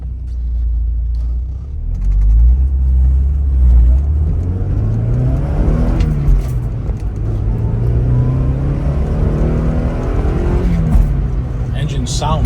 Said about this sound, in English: Engine sounds great, shifts good.